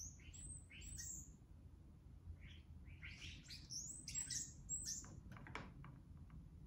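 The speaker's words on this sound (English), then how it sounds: "there's actually already a bird out there." Outdoor birds perched on a power cable give scattered, bright chirps and short squawks in irregular bursts, moderately close over a quiet background.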